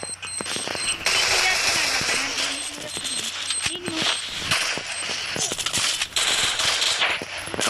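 Mini Uzi submachine gun firing in a video game custom match: rapid, clattering bursts of shots that repeat through the whole stretch, loud and busy, with other game effects mixed in.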